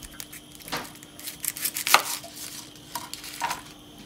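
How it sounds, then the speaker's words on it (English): A knife taps and slices against a cutting board in a few scattered, crisp cuts through a shallot, close and fairly quiet. "We're going to peel and thinly slice the shallot."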